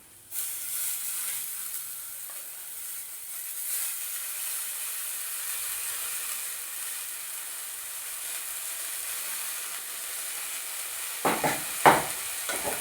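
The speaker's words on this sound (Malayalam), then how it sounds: "നമ്മൾ അരിഞ്ഞു വെച്ചിട്ടുള്ള നമ്മുടെ ചീര ഇട്ട് കൊടുക്കാം" Chopped spinach (cheera) stir-frying in a hot pan, a steady close hiss and sizzle running throughout, with a few sharp utensil scrapes and knocks near the end.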